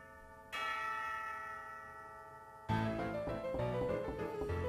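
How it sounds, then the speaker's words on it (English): A bell tolls twice in the video game Chloé's Requiem. The first ringing strike lingers and fades, then a second, fuller peal follows with overlapping tones. "I heard the bell."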